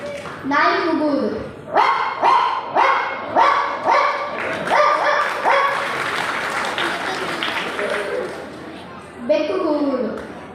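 A person mimics a dog, voicing a run of bark-like yelps in quick bursts, then sustained whining howls and a final yelp, loud and close as part of a school talent-show sound imitation act, with no real dog present.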